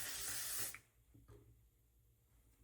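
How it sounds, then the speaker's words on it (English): A L'Oreal Paris Infallible 3-second setting mist sprays onto a face in one steady, close hiss lasting under a second, then quiet room tone follows. "I'm going to use my L'Oreal Paris Infallible 3-second setting mist. So I'll spray that on."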